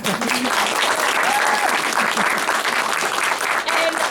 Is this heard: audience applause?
yes